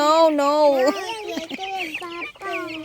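Young broiler chickens, about 23 days old, clucking and chirping loudly and close by on a farm, their rising, wavering calls running almost continuously.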